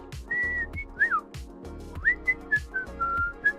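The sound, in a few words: whistling the chorus of a song, imitating a cockatiel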